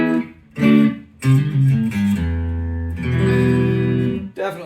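Clean Grote P90 hollowbody electric guitar on the neck pickup through a Line 6 Spider amp, several notes and chords ringing out and sustaining with short gaps between phrases, no voices.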